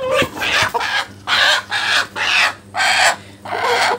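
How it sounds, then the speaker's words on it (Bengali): Laying-age Tiger hens clucking loudly and close, a series of about six rhythmic drawn-out clucks with short pauses between, over a faint steady hum. "উপযোগী মুরগিগুলো আসলে এরকম শব্দ করে"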